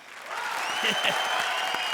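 Studio audience applause at a comedy show stage, a dense steady wash of clapping that holds for the whole stretch, with a few brief voice sounds rising through it.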